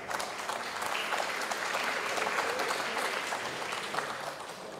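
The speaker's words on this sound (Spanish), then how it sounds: "Fuertes aplausos para él, por favor." An audience at an international circular economy forum claps for an honoree, a steady wash of many hands that is moderately loud and sustained throughout, with no voices over it.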